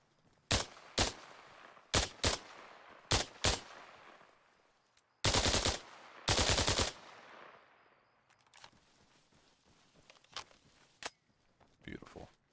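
A suppressed FN SCAR rifle fires in Arma Reforger in loud bursts of two or three rounds, then a longer rapid burst. Quieter, scattered shots follow, with faint echoing tails between them.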